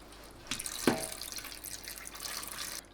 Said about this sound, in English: put it on cold, flush away, yeah, let it flush for a while